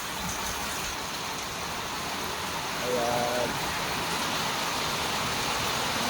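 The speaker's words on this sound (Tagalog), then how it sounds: "Lakas ng ulan, no?" Heavy rain pours in a dense, constant hiss in Carranglan, with a brief Filipino voice speaking partway through.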